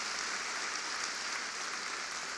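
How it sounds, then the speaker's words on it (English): Audience applause at the National Urban League State of the Urban League Address, a dense, even wash of clapping heard at a distance and fairly faint, steady across its brief span with no speech. "Let's give our chairman another warm round of applause for his outstanding commitment and leadership."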